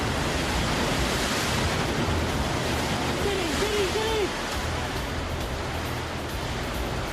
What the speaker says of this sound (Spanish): Una muralla de agua engulle las casas y los hoteles.